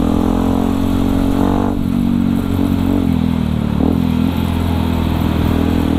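A Yamaha WR155R motorcycle engine runs loud and steady up close, its revs rising and dipping over several seconds with a faint mechanical clatter underneath and no talking.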